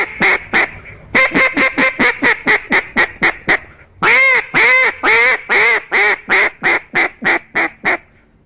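A handheld duck call imitates a hen mallard, delivering two loud runs of rapid, evenly spaced quacks, a short opening burst then a long aggressive sequence, close and alone with no talking.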